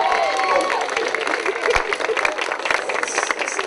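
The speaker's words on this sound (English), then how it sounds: "give them a nice big round of applause" Audience applause for volunteers at a magic show, scattered claps and some cheering from a crowd at moderate distance, mixed with murmuring voices and a brief whistle.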